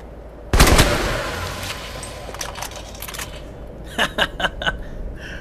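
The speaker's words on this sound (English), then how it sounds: "This is why I love the assault rifle." Assault rifle gunfire in the Alpha Protocol video game: one loud close burst followed by a few quieter shots, then a quick cluster of sharp reports near the end.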